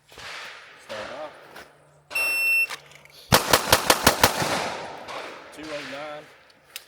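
Rapid pistol shots crack out in a tight string of about six during a Bill Drill, loud and close, preceded by a shot timer's electronic beep, with brief speech before and after.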